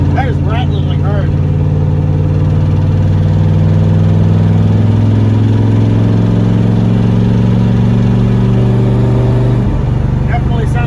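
A car engine with a worn rod bearing runs loud and close, a steady low idle drone with a rattling knock over it, then a brief change in pitch near the end; the exhaust is leaking.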